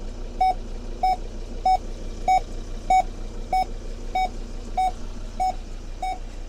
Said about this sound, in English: that beeping has seemed to have stopped now